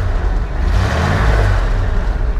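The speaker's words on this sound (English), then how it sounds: "Just rev the engine up." A 1990 Ford F250 XLT Lariat pickup truck engine with 53k original miles revs loudly and close up, one sustained throaty surge with no talk.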